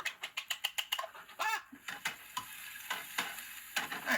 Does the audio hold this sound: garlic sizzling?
yes